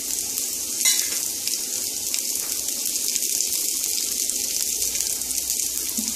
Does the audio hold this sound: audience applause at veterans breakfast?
no